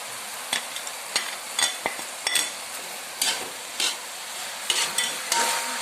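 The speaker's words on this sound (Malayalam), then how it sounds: "നന്നായിട്ട് മിക്സ് ചെയ്ത് കൊടുക്കാം" Vegetables with pepper and chili powder are stirred in a pan, with a soft sizzle under a series of distinct spatula scrapes and clicks against the metal.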